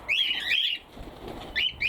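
A native New Zealand tui calls outdoors, imitating cockatiel sounds: bright, whistled chirping phrases in two bursts separated by a quieter gap, fairly clear and close with no talking.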